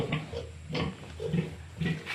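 Pigs kept for breeding grunt and oink repeatedly at close range, short snorting bursts arriving in an uneven rhythm of four or five calls.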